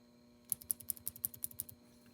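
About a dozen crisp, sharp clicks from a Pilot S10 mechanical pencil in a steady quick rhythm, close and bright, then quiet.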